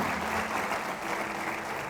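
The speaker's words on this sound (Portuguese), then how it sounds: "Se você crê, dê um aplauso a Ele" A church congregation claps together in a dense, sustained burst of applause, moderately loud and filling the room, brief and unbroken with no voices on top.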